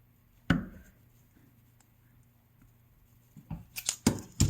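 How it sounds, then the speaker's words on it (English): Close-up scissors snipping through fabric: one sharp cut, a pause, then a quick cluster of several snipping cuts, with no voices. "Or you can use some scissors like I have to."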